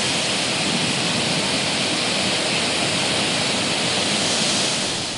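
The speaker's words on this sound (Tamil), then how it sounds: "செண்பகத்தோப்பு அணையிலிருந்து தண்ணீர் திறந்துவிடப்படுவதால் ஆரணி கமண்டல நாக நதியில் 3 ஆண்டுகளுக்கு பிறகு வெள்ளப்பெருக்கு ஏற்பட்டிருக்கிறது" Floodwater released from the Shenbagathoppu dam during a cyclone rushes in a loud, continuous roar, like a broad waterfall, with no pauses or voices.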